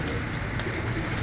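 Pigeons kept for sale in Faisalabad cooing, a brief steady murmur of low throaty coos from several birds close by, over a dense noisy background.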